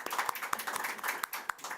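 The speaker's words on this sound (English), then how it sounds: "Let's give a big round of applause to all our keynote speakers." Scattered, thin applause at a conference on climate-resilient water management, with individual claps standing out irregularly instead of a full dense ovation; nearby and fairly light.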